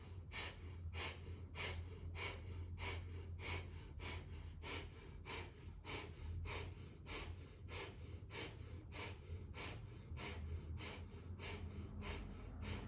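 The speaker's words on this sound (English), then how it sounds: "close the mouth and let the panting breath happen through the nose" Rapid panting breaths pushed through the nose, close and rhythmic, roughly two short bursts per second, steady and unbroken with no talking.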